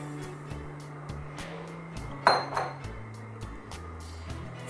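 Tamarind pulp dropped into a cooking pan while making imli chutney, giving a single metallic clink and soft clatter amid faint kitchen ticking, close and fairly quiet.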